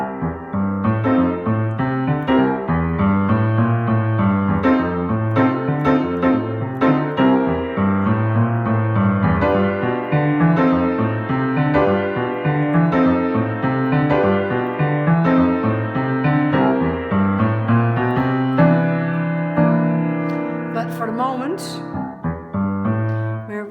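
A piano plays a steady, rolling 12-bar blues pattern, a repeating left-hand figure under right-hand chords, loud and continuous with no talking.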